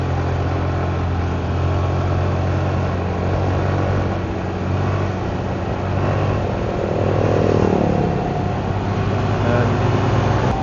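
Steady motorcycle engine drone while riding along an asphalt road northbound toward Camarines Sur in Bicol, with a constant hum and road and wind noise throughout and a slight swell near the end.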